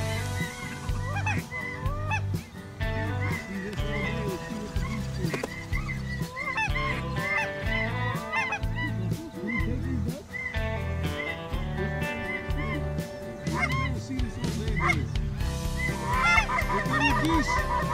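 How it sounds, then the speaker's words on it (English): Many geese honk loudly and continuously on a farm goose hunt, a dense overlapping chorus of calls layered over a steady low rumble, growing busier toward the end. "Here come your geese!"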